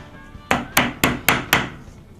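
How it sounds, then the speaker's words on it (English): A hammer striking a nail, five sharp evenly spaced blows about a quarter second apart, loud and close, each ringing briefly before the next hit. "You're going to take the nail, that's what you hit with the hammer"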